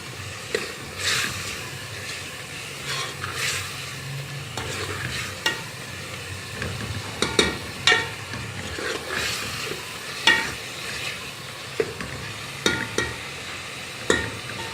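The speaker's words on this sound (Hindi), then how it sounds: "ये कीमा हमने अच्छी तरह से 1-2 मिनट मसालों में भून लिया है" Minced meat being fried in spices in a pan, a steady sizzle punctuated by repeated scraping and knocking strokes of a spatula against the pan, close and fairly loud.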